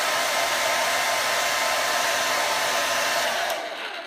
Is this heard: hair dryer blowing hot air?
yes